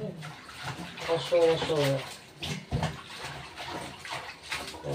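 Pork belly for sinigang rinsed under running water, a close splashing rush of flowing water with a hard knock partway through, while someone talks over it.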